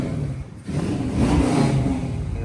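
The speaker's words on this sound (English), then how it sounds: "Give it a rev." A 1972 Ford Bronco with a C4 automatic revs its engine: a steady running drone swells into a louder, rougher rev midway, then eases back slightly while still running. The vehicle is close, with no talking.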